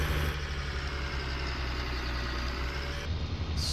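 A tractor engine in Farming Simulator rumbles with a steady low drone while it discs sod in a field. It holds an even idle-like hum throughout with no talk.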